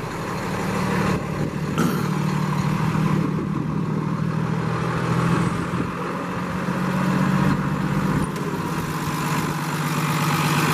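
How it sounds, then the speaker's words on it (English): A 2014 Freightliner M2 flatbed truck's Cummins ISL 300-horsepower diesel engine idles steadily nearby, a constant loud low rumble with no pauses for the whole stretch. "let you hear the engine run."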